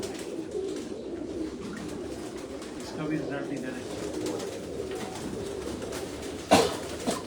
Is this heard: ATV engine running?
no